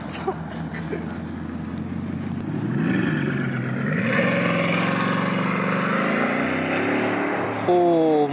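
A Bugatti Chiron HellBee supercar at a car meet builds from a low rumble into a loud, rising engine roar as it approaches and passes close by, with a brief higher whine near the end.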